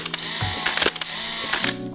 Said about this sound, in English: Beautiful shutter sound.